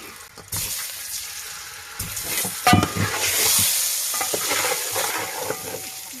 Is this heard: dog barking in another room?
no